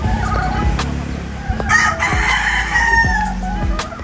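A tethered Kelso gamecock rooster crows once, loud and close, a long strained call rising out of steady farmyard background noise.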